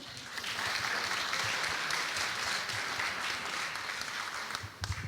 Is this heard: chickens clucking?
no